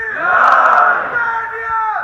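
A large crowd at a mosque in Skardu roars a chanted slogan response in unison, a loud sustained mass of voices swelling and then easing over about two seconds.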